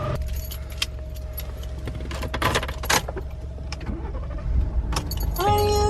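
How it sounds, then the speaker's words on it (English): A truck's engine idles loudly with a steady low rumble while a bumper from a wrecked Mustang sits in the bed. Keys jangle and clatter in the foreground, and a rising whine is heard near the end. "The truck is so loud."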